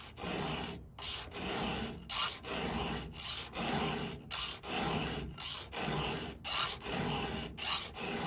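A chainsaw chain tooth sharpened with a hand file, giving loud, close rasping strokes in a steady rhythm of about a dozen pushes, each separated by a brief pause.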